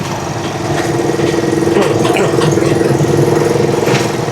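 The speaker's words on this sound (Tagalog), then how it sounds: "kasama natin yung ating trike na Rusi Chariot" A Rusi Chariot 175cc motorcycle trike engine idles close by with a loud, steady, rapid putter that holds an even rhythm throughout.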